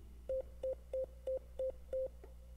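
Hammond B3 organ repeats one short, soft note six times in an even rhythm, each a brief steady tone with a gentle attack, faint and alone over a low background hum.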